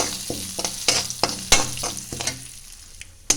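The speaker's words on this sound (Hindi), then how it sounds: "यहाँ पर सूखे मसाले अच्छे से भून गए हैं" Dry spices and asafoetida roasting in hot oil for Punjabi aloo matar paratha filling, a steady sizzle broken by repeated sharp scraping clicks of stirring, loud and close, with no voices.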